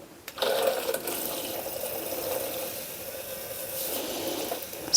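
Makeup brush swished and lifted in water inside a Dream Look brush cleaner, a soft continuous watery swirl with light splashing, fairly quiet and steady.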